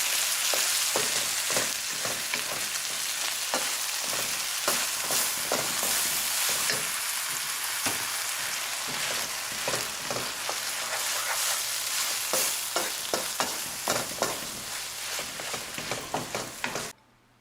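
Rice-A-Roni stir fry with cooked hamburger meat sizzles in a pan while a utensil scrapes and stirs it in steady, irregular strokes, close and fairly loud, with no talking.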